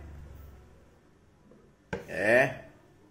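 A knife chops spring onion and lime leaves on a board, one sharp close knock followed by a brief clatter of kitchenware.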